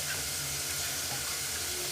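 Beans frying in a pan until crispy, with garlic, give a steady broadband sizzle and hiss that continues evenly throughout, close and fairly loud, with no voices.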